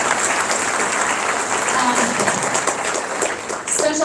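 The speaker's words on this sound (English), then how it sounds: "please give them a round of applause because they put on a great show" Audience applause for performers at a college Diwali celebration and dance show, a dense, steady wash of many hands clapping that holds loud throughout, with a few voices and cheers mixed in near the end.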